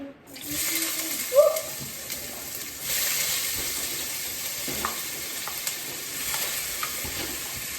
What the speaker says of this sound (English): Oil is hot. We are going to add our onion.